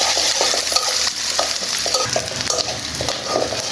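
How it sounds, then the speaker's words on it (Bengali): Chopped onion, garlic and green chilli fry lightly in oil, a dense, close, steady sizzle broken by repeated scraping stirs of a spatula, with no voices. "হালকা করে ভেজে নেব।"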